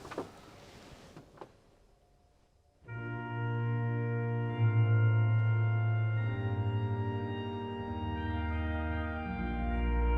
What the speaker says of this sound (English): Here's the oboe on the swell.